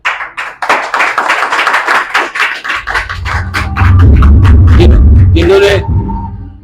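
A crowd claps, first scattered and crisp, then swelling into loud, dense applause with a low rumble underneath, fading as a voice returns at the end.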